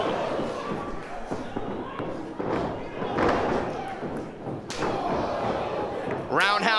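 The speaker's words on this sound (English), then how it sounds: "Big German suplex of the release variety." A wrestler landing hard on the ring mat from a release German suplex at a live indoor pro wrestling event, heavy slams and thuds under loud commentary and crowd noise, with a sharp squeal near the end.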